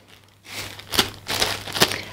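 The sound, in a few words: zip-lock plastic bag being handled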